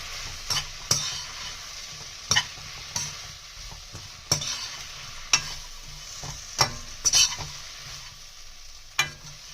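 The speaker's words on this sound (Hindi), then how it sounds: "अब इसके हम लोग टमाटर को फुलकों के साथ अच्छे से मिक्स करेंगे।" A spoon stirs tomatoes through torn phulkas in a pan for Sindhi seyal maani, giving a soft continuous sizzle broken by irregular clinks and scrapes against the metal, close and fairly quiet.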